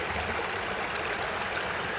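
Water runs at a low flow through a sluice box set in a stream while prospecting for gold in Indiana, a close, steady rushing and trickling wash with no talking.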